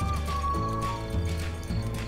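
A horse in the video game ArcheAge neighs and its hooves clip-clop, a steady dense stream of game sound with a whinny early on, close and fairly loud with no talk.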